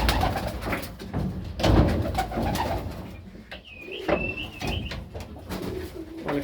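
Racing pigeons in a loft coo nearby, overlapping throaty rolling calls mixed with wing flutters, bumps and light chirps, with no voices.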